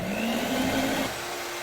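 An electric mixer whips egg whites with sugar in a bowl, a steady whirring hum that cuts off abruptly partway through, leaving a quieter background.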